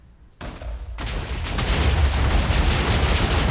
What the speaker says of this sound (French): on se recule et une petite explosion